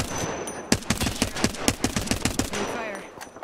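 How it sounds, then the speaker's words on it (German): Rapid burst of Apex Legends gunfire, about a dozen sharp evenly spaced shots over roughly two seconds, loud and close within the game's battle soundscape. "Ah, ich werd beschossen."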